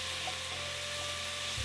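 Meat stir-frying in a hot pan with soy sauce gives a steady, even sizzle that hisses on without a break.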